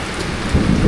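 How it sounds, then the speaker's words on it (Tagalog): Heavy rain pours down hard on a house, a dense, loud, steady roar of water for about a second. "Bahay natin sobrang lakas ng ulan."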